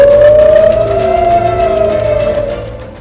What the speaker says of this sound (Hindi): ईरान के मिसाइल हमले के बाद हर तरफ सायरन बजने लगे